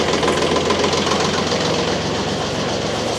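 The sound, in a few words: diesel engine starting up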